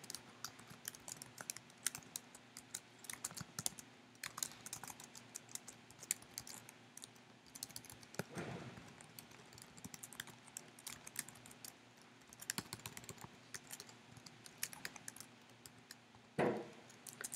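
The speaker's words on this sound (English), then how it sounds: "Sorry, I'm having trouble typing here. I switched over to the Dvorak keyboard recently." Fingers type on a Dvorak-layout computer keyboard in a quiet room, producing uneven bursts of soft key clicks with hesitant pauses and a few louder taps, no talking.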